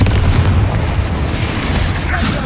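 Confringo fire spell bursting in Hogwarts Legacy, a dense booming explosion with a rumbling low roar that fills the whole moment, loud and close, with no talk over it.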